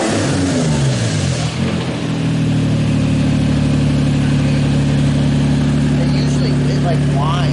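A car's transmission or differential whines while it runs, a loud engine rev settling into a steady droning tone with a sustained whine layered over it, close and continuous.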